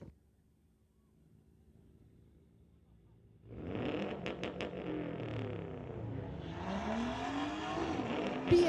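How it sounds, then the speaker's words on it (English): A drag race car at Mission Raceway roars to life after a few quiet seconds, and its engine revs loud and close. The roar then builds into a higher, rising whine as the car pulls away down the strip. "Super close side-by-side racing action here at Mission Raceway."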